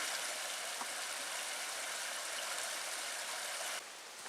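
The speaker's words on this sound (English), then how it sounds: "And now we've come up to the Big Carp River." Big Carp River in the Porcupine Mountains of Michigan rushing along steadily, a broad, even hiss of flowing water close by that drops off slightly near the end.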